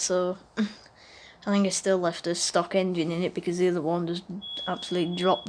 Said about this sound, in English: It's the faulty smoke alarm that's going off